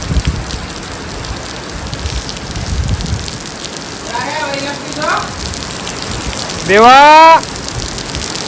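Steady rain pours down on a Janmashtami day in Gujarat, a continuous hiss on the surroundings, while voices call out and one shouts loudly.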